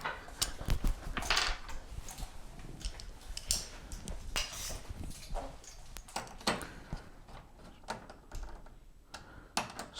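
Close metallic clicks, ratcheting and small taps as fasteners on a Twilight Zone pinball ramp are snugged down during a playfield restoration, irregular bursts of tool and hardware contact with short gaps between them.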